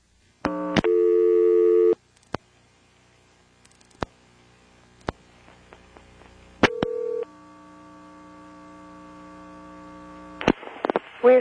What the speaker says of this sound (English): Here's dialing 241.